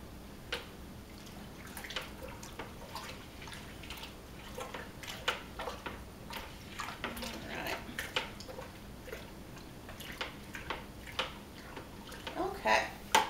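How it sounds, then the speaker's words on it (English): Homemade laundry detergent mixture is stirred in a bucket, giving soft wet sloshing and scattered clicks of the stirrer against the sides, close and fairly quiet, with speech occurring in the clip. "give that a good stir"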